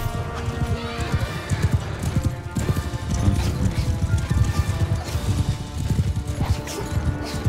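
Horses gallop and neigh during a mounted battle in Mount & Blade II: Bannerlord, with dense, steady clip-clop hoofbeats close by and a few whinnies over a loud, busy battle din, and faint talk mixed in.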